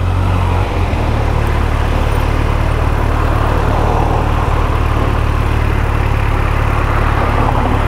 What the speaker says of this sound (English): Bloody traffic's bad again.